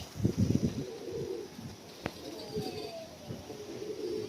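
Young pigeons coo softly up close in short murmuring bursts, with a sharp click partway through and quieter coos after it.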